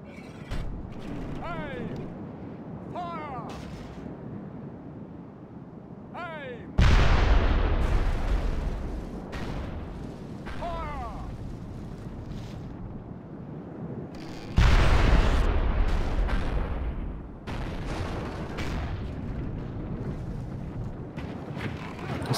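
Artillery battery firing in an Italian Wars pike-and-shot video game battle: two heavy cannon blasts a few seconds apart stand out over a busy background of mechanical clatter and distant battle noise.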